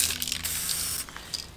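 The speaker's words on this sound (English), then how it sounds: "Cause that's throwing up a lot of overspray that I don't need in my life." A spray gun hisses as it sprays powder coat onto a part, short breathy bursts of airy spray close by with brief gaps between pulls.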